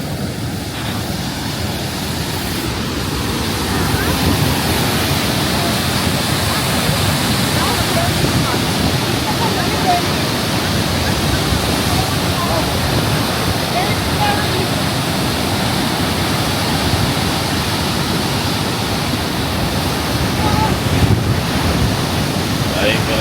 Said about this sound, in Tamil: இது வந்து ஒரு சின்ன வாட்டர் ஃபால் தானா